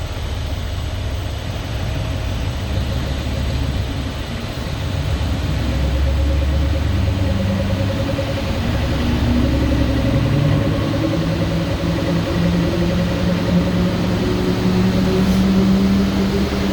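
A 2017 Mercedes-AMG GLE 63 with 65,000 km runs on a dyno with four-wheel drive locked, a loud, continuous engine rumble with a low drone that builds slightly partway through and then holds steady.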